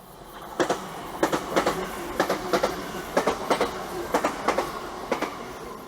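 A train rolls past at the seaside with a steady clickety-clack, paired wheel clicks repeating in an even rhythm over a low rumble, fairly close.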